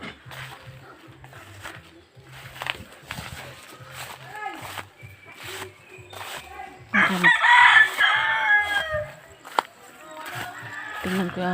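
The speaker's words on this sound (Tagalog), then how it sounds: "Dami kong manok-manok dyan, oh." Chickens cluck in a rural backyard with a loud rooster crow bursting out midway, alongside scattered clucks, knocks and faint hoof-like clopping, all fairly close and moderately loud.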